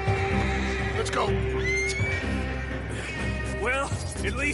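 A horse neighs loudly twice in Red Dead Redemption 2, its whinny rising and falling, over a dense game soundscape with ambient noise and brief talking in the background.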